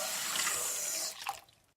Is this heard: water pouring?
yes